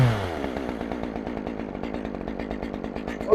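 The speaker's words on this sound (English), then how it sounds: "we're going to start with the small saw. This is the Stihl 201T." Stihl 201T chainsaw warming up, a loud, close, buzzy two-stroke drone with a rapid steady pulse and a small surge near the end.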